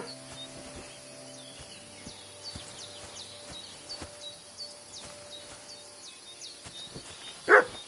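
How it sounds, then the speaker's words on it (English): A dog barks in the Kingdom Come Deliverance 2 video game, with repeated sharp barks at moderate distance over light ambience and faint chirps, ending in a louder burst. "Why is it barking so much?"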